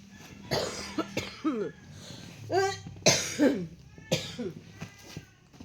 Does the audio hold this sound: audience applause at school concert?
no